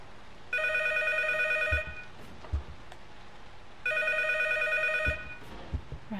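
Two bursts of an electronic telephone ring in the P.T. Silent Hills horror game, each a rapid trilling tone lasting over a second with a pause between, clear and fairly loud against quiet ambience with soft thuds.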